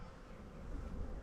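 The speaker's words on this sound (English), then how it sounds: "There's a couple bees on the outside" Honey bees buzz steadily and faintly around a beehive during a Demaree swarm-control inspection, a continuous soft hum with no talk.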